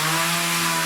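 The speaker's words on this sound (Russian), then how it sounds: "Ребят там уже режут, пилят" Sawing at a house under construction, a loud, steady buzzing power-saw drone cutting without a break through the whole brief moment, with no talk.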